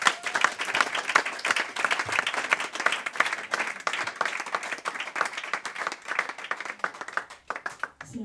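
A church congregation applauds the Lord together, dense sustained clapping from a large crowd filling the whole stretch, loud and steady with no talk over it.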